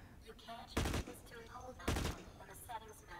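Weapons fire at a shooting range in the video game Blacklight: Retribution, two loud bursts spaced about a second apart, followed by a softer shot, with quieter game sounds in between.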